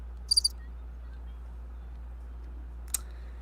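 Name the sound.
crickets chirping sound effect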